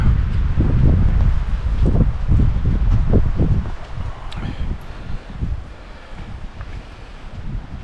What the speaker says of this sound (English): A little windy tonight